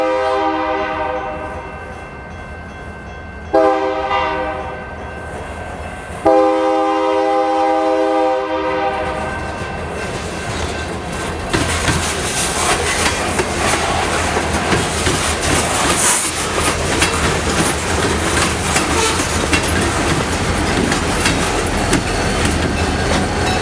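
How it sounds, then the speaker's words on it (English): Freight train number 4191 rolls back to the yard with three hopper cars, a loud sustained horn blast in several long bursts followed by heavy rumbling and rattling of wheels and cars passing close by. "Train 4191 brings 3 hoppers back to the yard."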